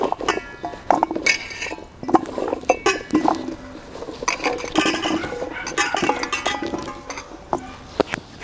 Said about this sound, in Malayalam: കൊത്തി നുറുക്കിയ കപ്പയൊക്കെ നമുക്ക് ഈ ഒരു ചെമ്പിലേക്ക് ഇട്ട് കൊടുക്കാം